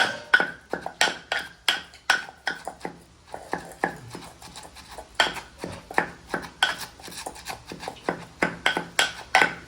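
Tamarind pounded with a pestle in a mortar for sambal, producing a steady run of sharp, close knocks in an uneven rhythm with short gaps between bursts.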